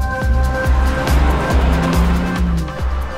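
2018 BMW X3 M40i accelerating hard through its 8-speed Steptronic transmission, the engine note climbing repeatedly and dropping at each quick upshift, loud and close with a steady rhythm of gear changes.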